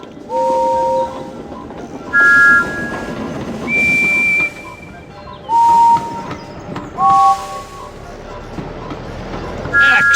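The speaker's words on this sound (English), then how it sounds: "That whistle is just like mine." Thomas the Tank Engine's train whistle in a children's video game, with short bright whistle toots sounding repeatedly at varied pitches over background voices and music.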